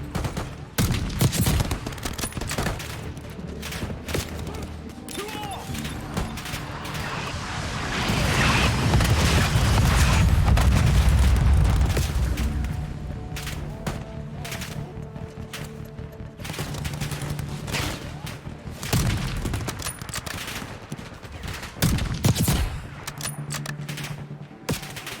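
Sustained cover fire in Call of Duty Black Ops 6: sharp gunshots and machine-gun bursts crack repeatedly, with a heavy rolling boom swelling midway, loud and near throughout.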